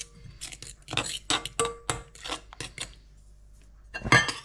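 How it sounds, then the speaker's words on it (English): A fork whisks boilie dry mix in a bowl with a run of quick, irregular scraping and clinking strokes, a pause, then a final burst of scraping, close and fairly quiet. "start adding your dry mix to this and whisking it in"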